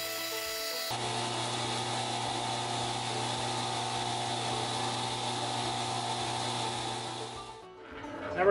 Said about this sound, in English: We're using an 80 grit drum on the oscillating spindle sander here.